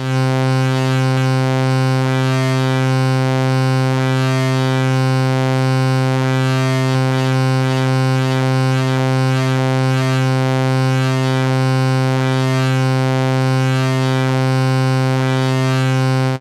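A Korg Modwave wavetable synthesizer note: a loud, sustained drone with a steady low tone, its upper texture shifting and sweeping continuously as wavetable position is modulated, no voices.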